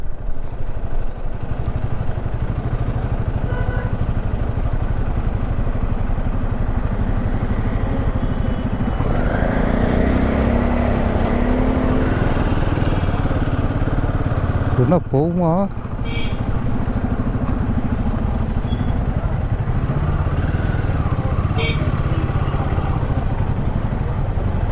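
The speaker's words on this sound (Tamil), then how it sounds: "ஐயோ, இது என்ன பயங்கரமான டிராஃபிக்காக இருக்குது." Heavy traffic backed up at a railway level crossing on the way to the Yamuna Expressway in India, motorcycle engines idling and rumbling steadily nearby, with people talking over the low drone.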